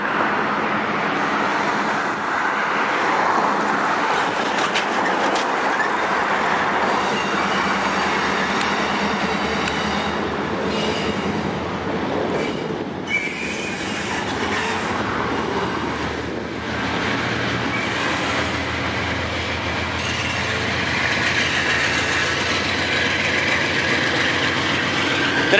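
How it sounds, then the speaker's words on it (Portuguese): A Dash 9 locomotive hauling a freight train arriving at the Ponta Grossa cargo terminal, heard as a continuous loud rumble of engine and rolling wagons with broadband rail noise throughout, no talking. "Trem Dash 9 chegando de Paranaguá, aqui no terminal de Ponta Grossa."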